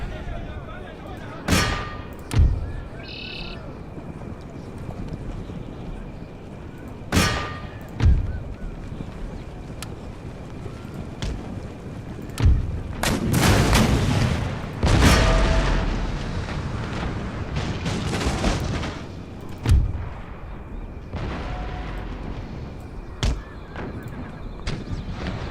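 Artillery guns fire in Empire Total War during the siege of Satara, a series of booming shots spaced irregularly, several loud and close with a cluster of overlapping blasts midway, while someone talks between them.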